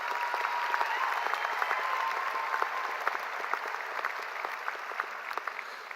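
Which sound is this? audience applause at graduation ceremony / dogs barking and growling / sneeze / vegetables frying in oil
audience applause at graduation ceremony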